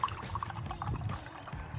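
Water runs from a simple tap on an atmospheric water machine that makes drinking water from the air, giving a steady, gurgling pour at close range with no talking.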